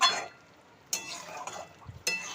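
Chicken kosha cooking in a pan, soft sizzling with a few sharp scrapes and clinks of a spatula stirring against the metal, no talking.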